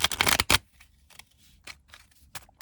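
Tarot cards being shuffled by hand, a dense riffling burst up front followed by several softer, scattered card flicks and taps, close and alone.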